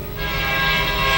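A train in the sci-fi horror game Dead Space rumbles and hums steadily, with a bright tonal whine riding over it, loud and close and without pauses, with no voices over it.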